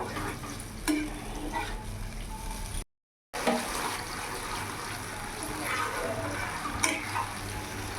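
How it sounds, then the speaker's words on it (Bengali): Water poured into an okra and yogurt curry in a pan hisses and sizzles, with stirring clicks and a brief dead gap partway through. "এবার অল্প একটু জল দিয়ে দেবো। 1/2 কাপের মতন জল দিলাম।"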